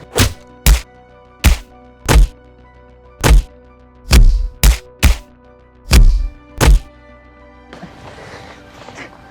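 Punches and blows land on a man in a staged Hindi drama beating, about nine heavy, close thuds in an uneven rhythm, followed by a quieter shuffling scuffle.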